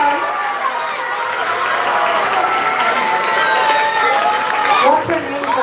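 A school audience applauds and cheers two boys who spoke on biometrics at a National Science Day event, a steady, loud wash of clapping mixed with excited chatter and shouts throughout.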